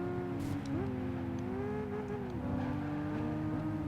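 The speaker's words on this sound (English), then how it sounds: "I mean, it revs about as high as a 997 from the era" A high-revving Porsche 997 GT3-style engine from Gran Turismo 5 surges and dips through quick throttle changes and shifts, with short tyre chirps, loud and sustained.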